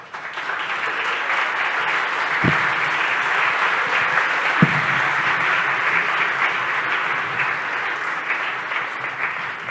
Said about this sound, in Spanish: Les pido, por favor, que le den un aplauso